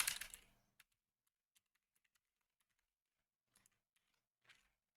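A burst of keystrokes on a computer keyboard while a secret key is entered, followed by sparse isolated key taps and a short final cluster, close and quiet.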